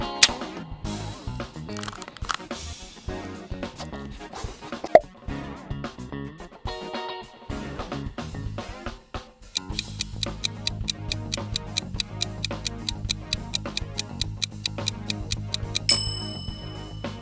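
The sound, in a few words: Milky Way candy logo sound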